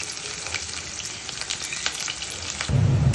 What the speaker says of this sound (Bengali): পেঁয়াজটা একটু নেড়ে দেবো।